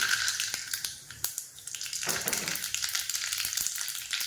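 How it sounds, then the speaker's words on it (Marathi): Mustard seeds crackle and sizzle in hot oil in a home kitchen pan while appe are being made, a steady bright hiss with scattered sharp pops throughout, close and fairly loud, no talking. "तेल तापलेलं आहे त्याच्यात टाकूया मोहरी"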